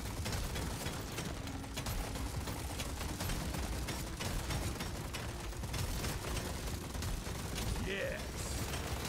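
Rapid, dense gunfire from Deep Rock Galactic: Survivor gameplay, a constant stream of quick mechanical shots at moderate level with no clear talking.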